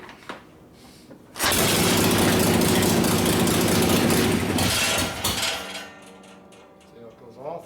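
A 1972 Harley-Davidson XL Ironhead Sportster with a freshly rebuilt motor fires up loudly, runs rough for a few seconds, then cuts out and sputters to a fainter murmur, close by in a repair shop.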